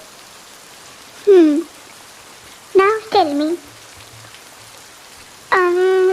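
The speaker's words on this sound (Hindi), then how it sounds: "अभी बारिश हो रही है" Rain pours steadily in a continuous soft hiss beneath a voice speaking in Hindi in short bursts, the downpour staying even and close throughout.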